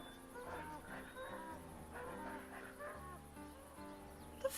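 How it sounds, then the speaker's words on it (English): A distressed cow in a city builder video game gives a few drawn-out, wavering moos over a low steady game backdrop, fairly faint, with no talking. "It did sound like a distressed cow."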